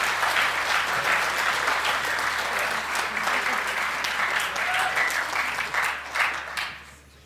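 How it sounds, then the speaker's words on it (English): A school auditorium audience at a high school holiday band concert applauds the concert band, dense steady clapping that holds strong for several seconds before tapering off near the end. "But please help me give them another round of applause."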